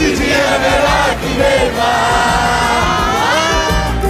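A dense football crowd roars and cheers without a break at a Botafogo match in Rio's Nilton Santos stadium, loud and sustained with rising shouts throughout.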